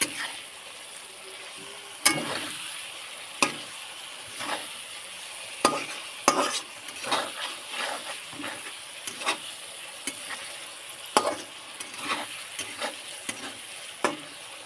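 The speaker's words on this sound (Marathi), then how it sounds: "आणि हे अंडे आहेत त्याच्यामध्ये मी सोडते आता परतून घेते त्याला" Eggs for an egg curry sauté in a pan with a steady soft sizzle, broken by scattered scrapes and taps of a spatula as they are stirred, moderately close.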